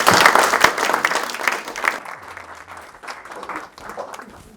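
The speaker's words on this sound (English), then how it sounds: "would you please join me and give me a very warm round of applause to Dean Emert and let him take it from here." Warm applause from a luncheon audience, dense clapping that is loud at first and then thins and fades over several seconds, with no speech over it.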